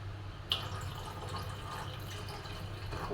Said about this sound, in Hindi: पूरा पानी कम हो गए, पानी डाल देती हूँ